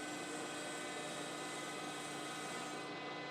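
A surface grinder makes a final pass across a machine table during a Thompson grinder restoration, giving a steady, loud, continuous grinding whine that holds unbroken throughout.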